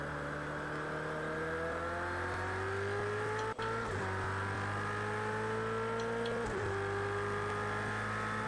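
A Ferrari 488 GT3 race car engine in Project Cars 2 at Silverstone revs loud and close, rising steadily through the gears with two brief dips at shifts, smooth and uninterrupted.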